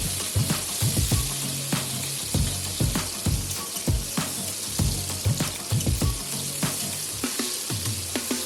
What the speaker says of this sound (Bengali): এবার এগুলোকে নাড়িয়ে চাড়িয়ে ভালো মতো ভেজে নেব।